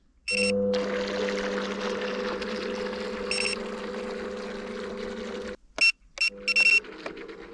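A Flytec D16 GPS RC fishing bait boat runs on open water, its small motor giving a steady mid-pitched whine that cuts out suddenly, then returns briefly amid a few electronic beeps.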